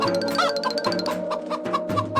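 A loose chicken clucks in short repeated calls, fairly close, amid a busy background of other tones and noise.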